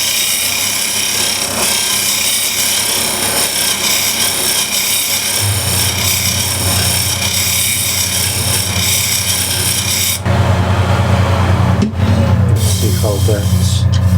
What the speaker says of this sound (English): first I would like to maybe just shear scrape this.